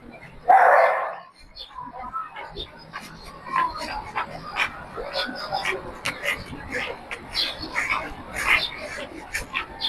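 A single sharp dog bark near the start, followed by ongoing chatter and background activity at a cherry blossom spot in BGC.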